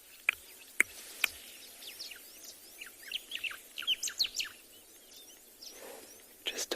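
Sharp bird whistles and chirps ring out at dawn on a Kalahari safari at Tswalu, a few crisp single notes early on followed by a quicker run of calls.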